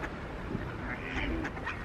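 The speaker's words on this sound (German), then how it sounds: "Guck, da hast du eine weibliche Ente oder eine männliche Ente?" Ducks quack in a dense, continuous flock chorus outdoors at a pond, with overlapping calls over a busy background.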